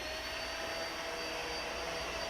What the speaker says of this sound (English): So I'm just going to vacuum up this baking soda up.